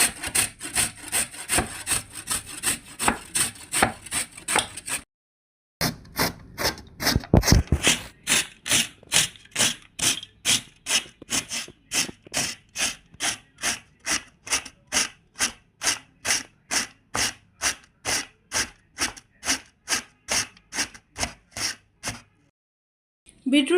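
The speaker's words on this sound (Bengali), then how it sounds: "প্রথমে বিটরুট গ্রেট করে নেব।" Peeled beetroot rubbed on a kitchen grater makes a steady series of rasping strokes, loud and close, in a regular rhythm broken by two short pauses.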